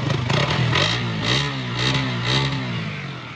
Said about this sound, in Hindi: आवाज़ सुन लेते हैं, एग्जॉस्ट सुन लेते हैं